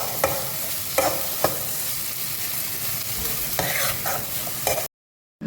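Garlic and chili powder sautéing in oil for a carrot pickle, a continuous close sizzle with several scraping stirs of a spoon against the pan, no voices, ending in a brief silence.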